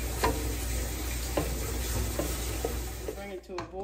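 Cherry jam being stirred in a pan, a spoon scraping and clicking against the metal every second or so over a faint steady simmer, close and fairly quiet with no voices.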